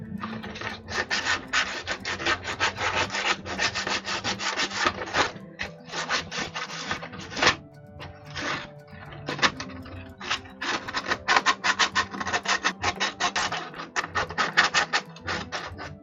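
Scrap wood penguin cutouts being sanded, a steady rhythmic rubbing and scratching of abrasive on smooth finished wood, close and continuous with brief pauses, no talking.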